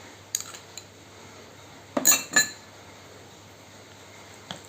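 A spoon clinks against a bowl while curd is mixed into a face pack, a few light metallic taps and scrapes close by, quiet between strokes.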